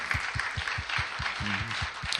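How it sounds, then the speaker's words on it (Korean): Brief, steady clapping from a church congregation, a smattering of applause with a faint tone or voice in the background. "이런 귀한 하나님 찬양단 주신 하나님께 우리 영광의 박수 한번 돌리겠습니다"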